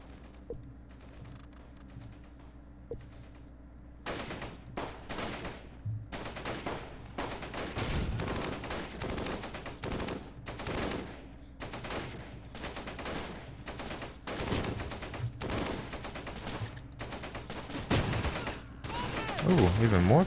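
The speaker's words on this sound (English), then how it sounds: "I'm gonna get my guys to open fire on these people right away" Gunfire from soldiers in the Close Combat wartime strategy game, with sharp bursts and rattling volleys of rifle and machine-gun shots, dense and repeated over a steady low background, growing heavier toward the end.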